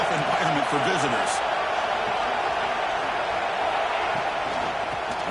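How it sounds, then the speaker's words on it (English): A packed football stadium crowd roars steadily through a college football game between LSU and Ole Miss, a dense, continuous wall of cheering that stays loud from start to finish with some voices mixed in. "Listen to the crowd energy here in the early going."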